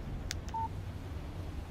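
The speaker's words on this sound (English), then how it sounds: "Text message from Barry" A short electronic phone text-message alert from the video game Alan Wake Remastered, two quick bright blips followed by a brief steady tone, heard alone over a low background hum.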